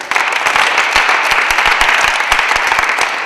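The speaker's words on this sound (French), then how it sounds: "Voilà, on va l'applaudir très fort." Loud, close applause from an audience at an open choir concert honoring a boy, dense and sustained, with sharp individual claps popping out of the steady roar.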